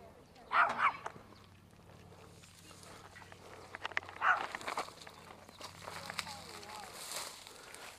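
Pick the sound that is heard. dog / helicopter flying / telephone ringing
dog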